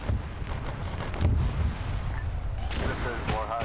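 Artillery bombardment in a Total War battle between Slaaneshi and Imperium forces: deep, rumbling booms roll together under gusty wind-like noise, with a player's voice faintly present.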